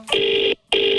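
A telephone rings for an outgoing call, two loud electronic tone bursts separated by a short silent gap, close and clear with no voices.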